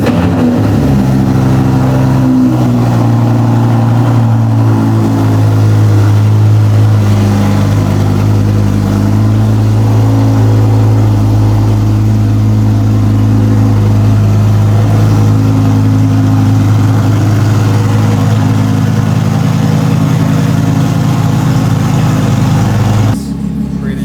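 An Audi R8 with a Quicksilver exhaust, idling with a deep steady drone and occasional revs rising over it, loud and close, running continuously before cutting off near the end.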